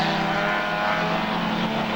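A race car pulls away again during a Rolling Thunder Show race meeting at Arena Essex, its engine a loud, steady, close drone with no voices over it.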